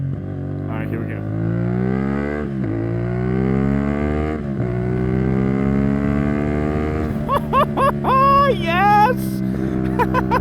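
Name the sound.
CFMOTO 450SS motorcycle revving with Yoshimura slip-on exhaust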